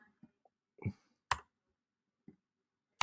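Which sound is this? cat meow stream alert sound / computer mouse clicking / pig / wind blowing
computer mouse clicking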